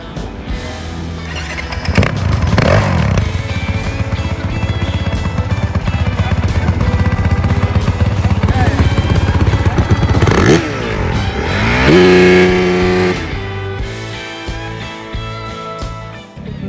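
A rally motorcycle engine, checked at scrutineering for the Qatar rally, is revved hard and loud right up close, staying a steady roar with surging rises and falls and a clattering mechanical edge throughout.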